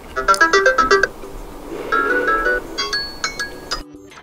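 A Samsung Galaxy A42 ringtone preview plays a bright melodic chime pattern, pauses, then plays a second, different tone sequence of clear electronic notes, with no talking.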